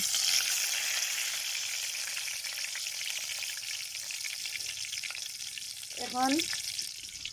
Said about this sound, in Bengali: কিছু সময় তেল গরম হয়ে গেছে, এখন আমি তেজপাতা ছাড়ব।